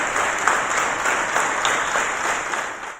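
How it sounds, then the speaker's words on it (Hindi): Conference hall audience applauding, dense continuous clapping from a large crowd, loud and even from start to finish with no speech over it. "तो पूरा हॉल कई मिनट तक तालियों से गूंजता रहा।"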